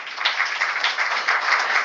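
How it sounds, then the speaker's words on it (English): Audience applause at a stock exchange listing ceremony at the NSE in India, a dense, steady wash of many hands clapping, moderately loud and continuous throughout with no voices over it. "Please put your hands together for the team from JM Financial Limited."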